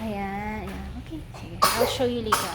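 People talk, then a sudden sharp sneeze bursts out, followed shortly by a second quick burst.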